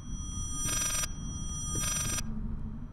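Telephone ringing in the horror game Layers of Fear, two distinct electronic bell bursts about a second apart, moderately loud over a low droning ambience, no talk.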